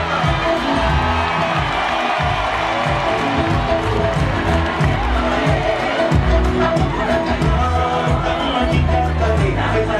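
A large audience at a live show cheers and applauds steadily throughout, a dense and loud wash of clapping mixed with whoops and crowd shouting.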